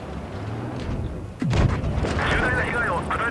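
A single heavy boom of a tank gun firing in the mobile video game World of Tanks Blitz, sudden and loud midway through, followed by rumbling battle noise and a voice talking.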